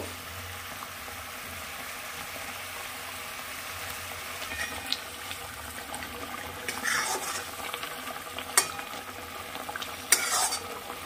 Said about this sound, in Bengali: ঝোলটা ভালোই ফুটে উঠেছে, এবার আমি মাছগুলো দিয়ে দেব।